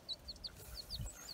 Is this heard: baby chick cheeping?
yes